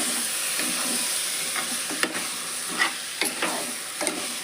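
Rice stirred through a hot sizzling tempering for vegetable pulao, a continuous close frying hiss broken by several sharp scraping spoon strokes against the pan, with no voices.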